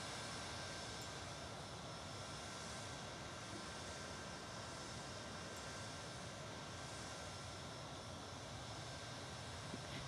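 A Boeing 737 MAX 8 jet roars through its takeoff roll in a flight simulator, a steady broadband engine rumble and hiss that holds constant and fairly loud throughout, with no voices.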